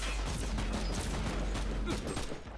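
Rapid continuous turret gunfire in the video game Warhammer 40K Inquisitor Martyr, a dense loud fusillade of overlapping shots filling the whole stretch.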